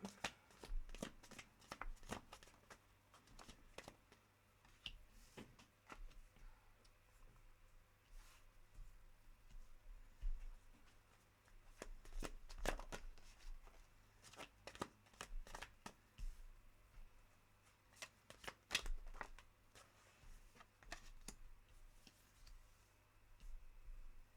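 Tarot cards are shuffled close up in quiet, irregular bursts of soft riffling and slapping taps that come and go, with brief pauses between.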